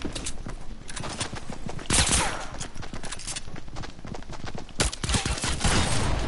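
Pistol shots fire in a video game, a fast irregular stream of sharp cracks with louder bursts near the start and end, dense and close with no clear talking.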